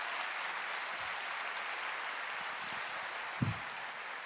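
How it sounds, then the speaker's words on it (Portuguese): Congregation applause during a church sermon, a faint, distant, even hiss of many hands clapping, with one brief soft thump near the end and no voices. "aplauda o Senhor"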